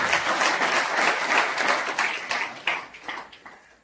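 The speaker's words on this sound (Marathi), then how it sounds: "जोरदार टाळी वाजवतात" An audience at a religious gathering in Baramati applauds loudly, the dense clapping sustained for a few seconds before thinning out toward the end.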